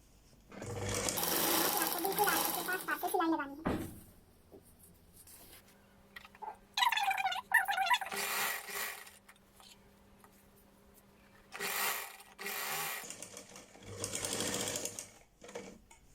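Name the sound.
sewing machine stitching elastic on ladies' trousers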